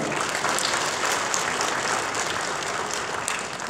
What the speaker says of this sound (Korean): 박수로 환영합니다